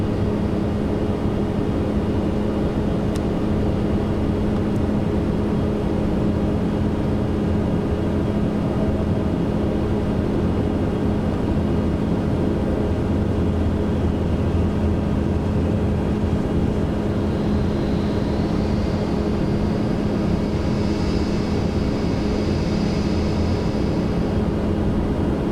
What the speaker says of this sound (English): Here comes the other Ryanair that was behind us.